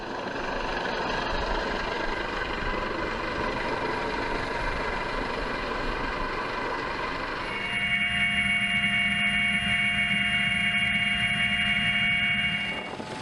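A medevac helicopter works at a cruise ship with a steady loud rotor and engine drone. Partway through, a high tonal whine joins the drone and holds until near the end.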